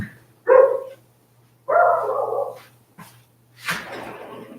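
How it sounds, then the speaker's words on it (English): Several loud bursts of dog barking close by, three separate outbursts spread across a few seconds with quiet gaps, over a low steady hum. "The dog's getting really loud"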